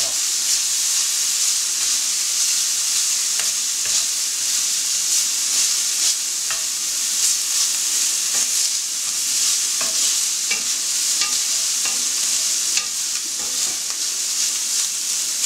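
Beef for shawarma frying in a little oil and being stirred makes a loud, steady sizzle and hiss, with scraping stir strokes throughout, heard close up and alone.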